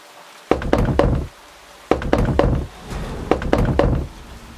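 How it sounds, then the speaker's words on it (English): Three separate bursts of heavy knocking on a wooden door, each a quick run of dull, resonant thuds, loud and close, with short silent gaps between bursts. "A third knock, then another and another."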